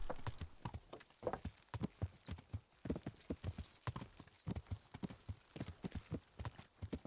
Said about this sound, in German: dann reiten wir gleich mit den Ulrich weiter